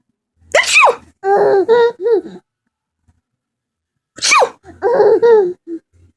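Two loud, close sneezes from a person, each a sharp burst followed by a quick run of gasping, breathy sounds, separated by a short silence.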